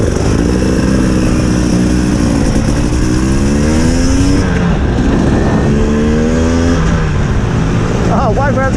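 A 2019 KTM 300 EXC TPI two-stroke off-road motorcycle rides on slippery grass in the Fens, its engine loud and close, revving up and down steadily while a rider's voice talks over it.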